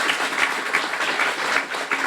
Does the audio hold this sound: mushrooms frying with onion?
no